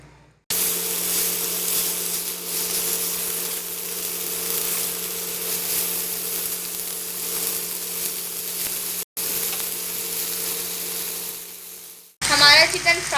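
Half a kilo of boneless chicken frying in a pan, a steady close sizzle with a low hum running underneath, cut off briefly, then a burst of louder sizzling and a voice at the end.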